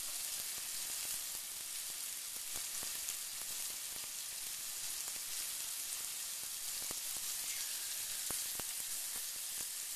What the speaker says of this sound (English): time to add in the chorizo. You just want to spread this around your pan.